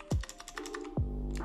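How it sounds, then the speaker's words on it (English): Quick keystrokes on a computer keyboard, a short burst of a few close, crisp taps with a louder thump at the start and midway. "here I will type hey"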